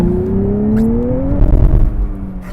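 A 2023 Nissan Z Performance with a manual gearbox accelerates hard in second gear on wet roads, its engine note climbing steadily in pitch and then easing off, loud and close from inside the cabin.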